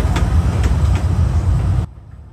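A Kurobe Gorge Railway train rumbles at Unazuki Station in Japan with a steady, loud low roar and faint clanks, then cuts off abruptly near the end into quiet.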